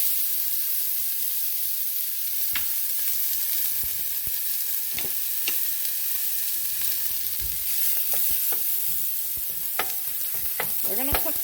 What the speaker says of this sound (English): let's go ahead and get the onions into the pan